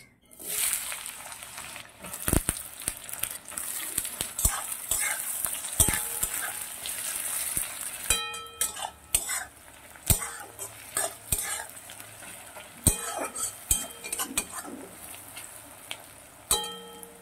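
Chopped onions fry in hot mustard oil with a spoonful of ghee in a heated wok, a soft steady sizzle broken by clinks and scrapes of a spoon stirring against the metal pan.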